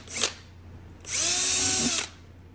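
A power drill with its chuck left unlocked whirs in two bursts, a brief blip followed by a steady, loud one-second run with a whining tone, close up in a workshop during a Honda CT110 clutch disc replacement.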